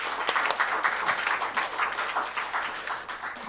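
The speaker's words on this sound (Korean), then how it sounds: "박수로 한번 격려하겠습니다." A church congregation claps to encourage a departing member, a steady burst of many hands applauding at moderate volume with no talking for a few seconds.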